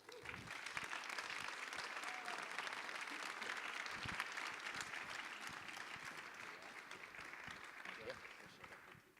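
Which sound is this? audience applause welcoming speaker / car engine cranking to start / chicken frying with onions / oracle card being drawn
audience applause welcoming speaker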